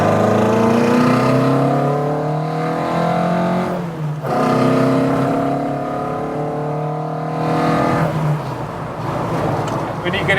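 A 1600cc Mk2 Ford Cortina 1600E engine revs up hard and loud, rising in pitch in long sweeps, close by and continuous.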